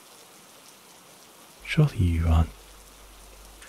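Rain falls steadily as a soft, even hiss throughout, while someone briefly speaks a short line over it partway through.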